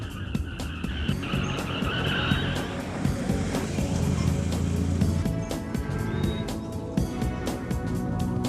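A car brakes hard to a stop with tires skidding and squealing, a loud sustained screech over dense engine and road noise that stays steady throughout.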